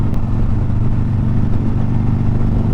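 A Harley Davidson Sportster 883 motorcycle rumbles steadily while being ridden, a loud, close, continuous low engine drone with no break or change in pace.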